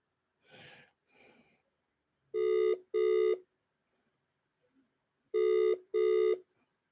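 Telephone ringback tone on an outgoing call, two pairs of double rings separated by a pause, clear and steady after a couple of soft breaths.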